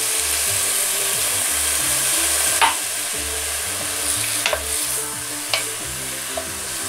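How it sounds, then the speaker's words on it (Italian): Meat sizzles steadily in a pan after being deglazed with white wine for a Genovese sauce, a constant frying hiss broken by a few sharp utensil scrapes and clicks. "Sfumiamo bene con il vino bianco."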